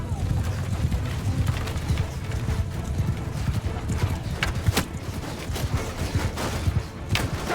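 Many horses gallop in a steady, continuous clip-clop of hooves in a Mount and Blade II: Bannerlord battle, with scattered sharper cracks of combat over the dense drumming.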